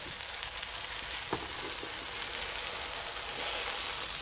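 Rice and vegetables frying in a pan make a soft, continuous sizzle throughout, with one brief scrape of a stirring utensil, fairly faint and close.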